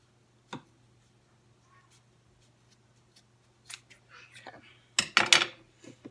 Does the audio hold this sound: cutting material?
yes